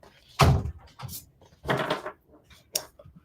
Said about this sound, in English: That was just the door behind me.